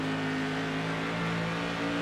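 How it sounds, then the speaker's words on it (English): Modified series race car at Lucas Oil Raceway, number 74 driven by Tanner Marr, heard from on board with a steady, loud engine drone and a throttle note that shifts in pitch as the driver eases off and rolls back on. "Listen to him work that throttle."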